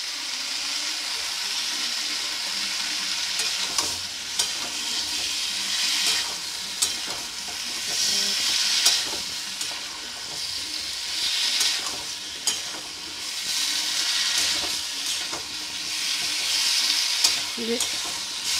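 Chopped tomato goes into a pan of mixed vegetable curry and fries with a loud, continuous sizzle, while a spoon scrapes and stirs in irregular bursts throughout.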